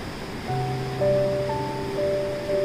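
The Ganga River runs fast at Gangotri, making a steady, close broadband rush of water. Sustained musical tones sit on top of it throughout.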